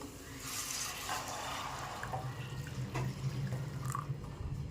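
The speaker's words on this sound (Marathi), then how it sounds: "आता आपण यामध्ये गरम पाणी टाकून घ्यायचं आहे आपल्याला आमटीसाठी" Hot water is poured into a curry pot up close, a quiet splashing and gurgling stream lasting a few seconds with small drips.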